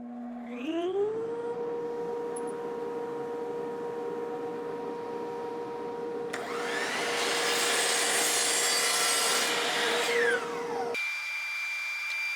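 A power saw spins up and runs steadily as it cuts excess wood off a cribbage board, its tone rising once the blade bites into the board, then it stops and a high motor whine remains.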